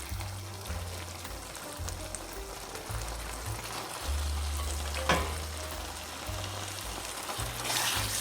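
Elbow macaroni being stirred into a cheeseburger casserole in a pan, a steady soft sizzle with repeated scraping stirs and an occasional clunk of the spoon, close and without talk.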